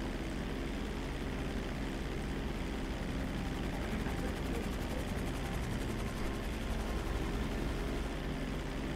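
A propeller aircraft roars through a hot takeoff in the Grand Theft Auto video game, a dense, steady engine drone with a fast rotor-like flutter running throughout the whole stretch without pause.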